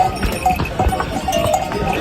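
Horse hooves clip-clop along the stone trek path to Kedarnath, a quick irregular run of knocks close by with faint bells and ambient murmur from other pack animals and travellers.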